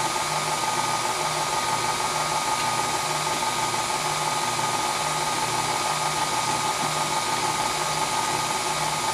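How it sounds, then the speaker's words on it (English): An electric mixer whirs on its low setting through pumpkin chocolate chip cake batter, a steady, continuous motor hum that stays level from start to finish with no voices. "you're mixing it on low now, you're not mixing it on high"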